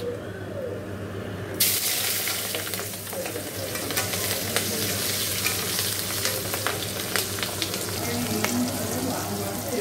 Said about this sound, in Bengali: আমি সর্ষে শুকনো লঙ্কা ফোড়ন দিয়ে দেবো